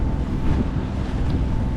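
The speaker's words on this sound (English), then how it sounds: "we've had the wind at our head the entire time" Steady wind buffeting a boat out on the water, a continuous loud rush and rumble with waves lapping underneath, no voices.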